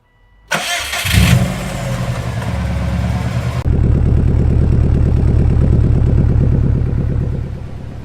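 A car engine cranks briefly, catches and settles into a steady, loud idle while it is checked for an exhaust leak. The idle runs at an even rhythmic throb, and the sound shifts in tone partway through.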